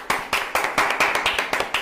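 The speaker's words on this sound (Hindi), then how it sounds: "तो तालियां क्या बात है।" Close, sharp hand claps beat in an even rhythm, about eight crisp strikes in under two seconds, loud and without any talking.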